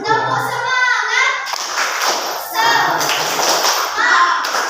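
Schoolchildren in a classroom performing a rhythmic spirit clap, sharp group hand claps in a patterned beat mixed with children's chanting voices, loud and close, in bursts across the stretch.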